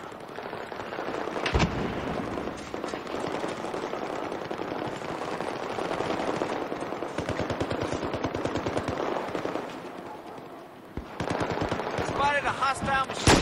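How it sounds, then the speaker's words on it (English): Light machine gun fire in Battlefield 4 squad deathmatch: long, rapid automatic bursts rattle almost continuously at close range, with a brief pause before another loud volley near the end, under occasional voice chatter. "Spotted a hostile machine gun."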